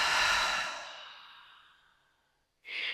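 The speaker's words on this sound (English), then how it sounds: "Then depleting the lungs on that exhale." A deep exhale during a breathwork exercise, a long breathy rush that fades over about two seconds, followed by a short sharp breath sound, close and alone.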